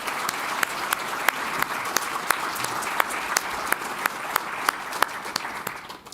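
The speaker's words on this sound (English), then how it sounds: "Let's take a moment to give a round of applause to everybody here." Audience applause for a panel of presenters at an Ohio old-growth forest stewardship event, a steady moderate patter of many hands with a few sharper, closer claps standing out.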